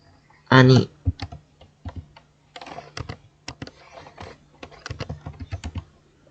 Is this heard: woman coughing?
no